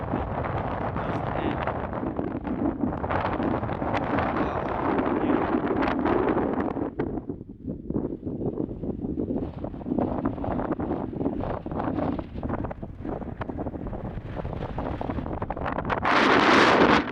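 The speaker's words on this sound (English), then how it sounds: "It is so windy out, guys, but it is beautiful down there." Strong wind buffets the microphone outdoors near Dinosaur National Monument, Colorado, in loud, continuous roaring gusts that ease briefly midway, then surge again.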